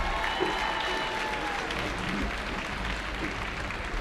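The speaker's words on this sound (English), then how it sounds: "Please give one final round of applause for our band seniors and their families" Steady applause fills a gym at a high school basketball doubleheader, honoring band seniors and their families, with continuous clapping and faint crowd murmur throughout.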